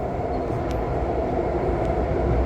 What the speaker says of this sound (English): this is the last train going to Montreal